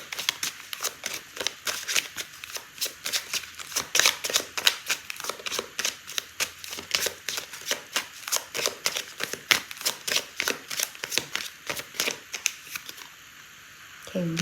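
Tarot cards are shuffled and riffled by hand in quick, steady bursts of papery flicks and snaps, close up and fairly loud, running continuously before a brief quiet pause near the end.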